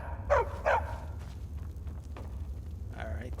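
A dog in the video game Skyrim gives two sharp barks close by, then a softer one later, with light background noise and the faint sounds of movement around them.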